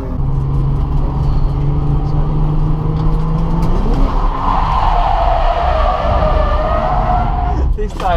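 Nissan 350Z drifting at a drift day at Santa Pod, engine droning loudly from inside the car as the revs climb and tyres squeal in a long rising skid, with a voice briefly at the end.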